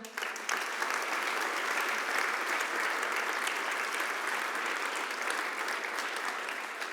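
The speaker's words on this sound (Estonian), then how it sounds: "soovitan soojalt, aplaus ka neile" Steady, loud applause from a crowd at a presentation event, sustained clapping throughout without pause.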